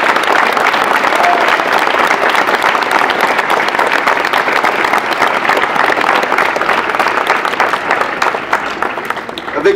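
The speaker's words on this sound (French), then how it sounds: "je voudrais vraiment que vous les applaudissiez beaucoup, ces enseignants, ce personnel de l'éducation" An outdoor audience at a Fête de la Musique presidential speech applauds teachers and education staff with sustained, dense, loud clapping that lasts the whole stretch, with crowd noise and some voices mixed in.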